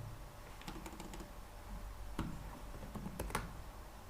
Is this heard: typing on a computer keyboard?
yes